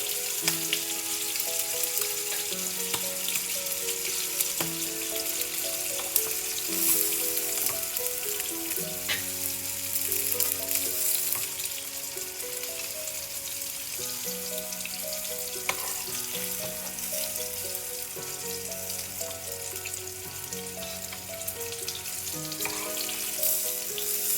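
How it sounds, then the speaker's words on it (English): Spicy Anglo-Indian fish fries in a pan with a constant, even crackling sizzle throughout, layered under melodic background music with no talking. "Now our fish is almost done. We can remove it. It's fried well on both sides."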